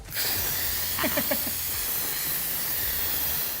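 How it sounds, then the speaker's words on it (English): An Instant Pot on quick pressure release lets out a loud, continuous hiss of escaping steam close by, with a few brief sputtering bursts early on. "we're gonna turn it over to a quick release"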